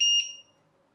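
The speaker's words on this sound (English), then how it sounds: "LiPo alarm." A LiPo battery alarm beeps with a sharp, piercing electronic tone, two quick pulses close to the listener, then the sound cuts off, leaving near silence.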